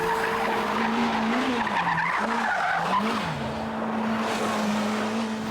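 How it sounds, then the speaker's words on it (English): A Dacia Duster spins one wheel under throttle on a mountain road, with tires squealing and skidding over a steady engine drone that rises and falls throughout. "Can you light up that one wheel with throttle and then it really goes?"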